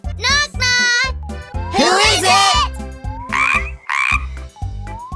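Cartoonish frog croaks from a children's farm game sound in a bouncy sequence over a steady musical backing, with a child-like voice in between.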